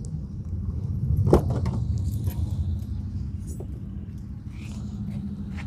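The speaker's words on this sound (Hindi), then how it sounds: "करते हैं कार को ओपन।" Keys jangle as a Toyota Yaris V automatic is unlocked and opened, a sharp metallic rattle near the start followed by a faint click, over a steady low rumble of background engine or road noise.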